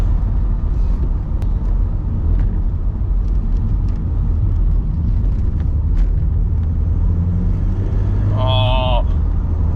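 Steady, loud engine drone and road rumble from inside an Audi TT lapping a race track, a continuous low roar with a brief higher whine near the end.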